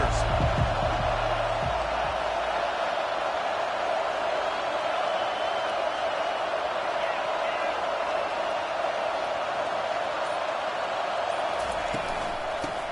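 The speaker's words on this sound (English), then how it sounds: "This crowd bringing an ear-splitting welcome to their visitors" A packed stadium crowd roars without letup at a college football game between Alabama and Texas, a loud, dense wall of sound from start to finish.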